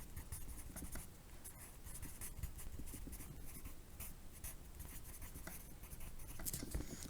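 Pencil scratching steadily across paper while multiplication is written out by hand, a continuous close dry scrawl with small pauses and no talk.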